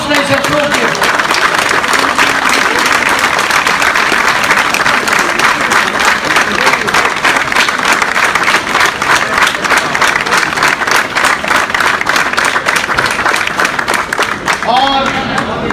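Loud, sustained applause from a large audience at a Lahore lawyers' gathering fills the whole stretch, with some crowd voices mixed in and a few shouts near the end.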